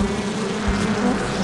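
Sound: bees buzzing from a beehive in a video game

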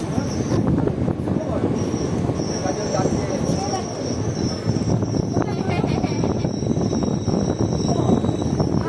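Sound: Kaviguru Express train arriving at platform three

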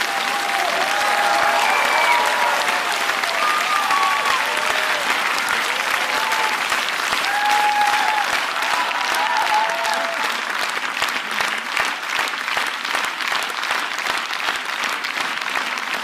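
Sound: jury and audience giving standing ovation

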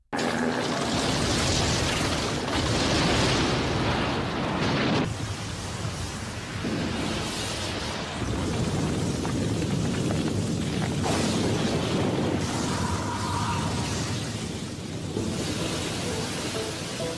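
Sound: Bankai release explosion in Anime World Tower Defense video game

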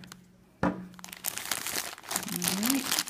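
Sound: ripping open packaging of a Disney vinyl figure

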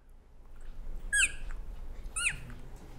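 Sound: elk cow call imitated on a call, soft

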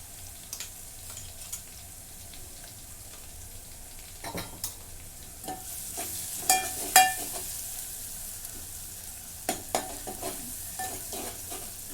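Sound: frying coconut-coriander paste and tomato

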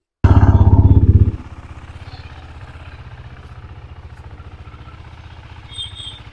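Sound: KTM RC 390 motorcycle engine running

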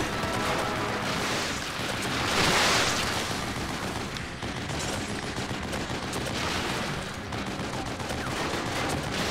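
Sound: machine gun fire in video game The Evil Within

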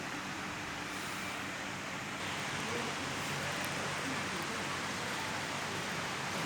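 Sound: August rain starting in Ankara

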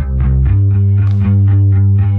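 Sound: bass guitar with wavy phaser effect

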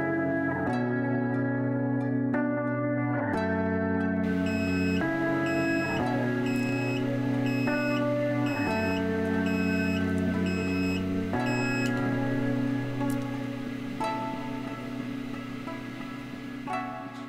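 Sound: soldering station temperature alarm sounding

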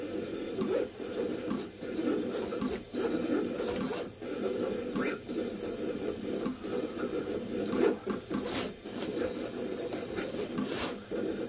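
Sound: Vevor 28-inch commercial vinyl cutter running at maximum speed

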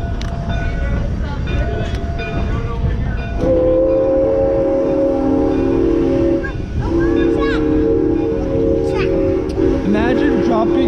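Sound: train moving along the rails

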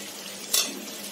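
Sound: stirring spices frying in a pan

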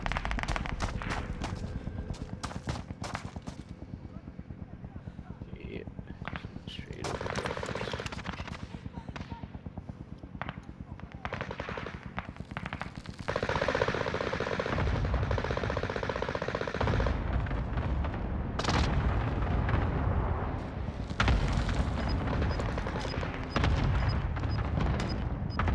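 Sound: gunfire in a video game

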